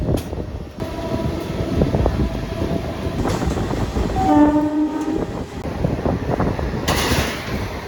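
The Rajahmundry to Visakhapatnam special express rolls near Kadiyam station with continuous wheel clatter and rumble, and one loud, sustained horn blast rises midway.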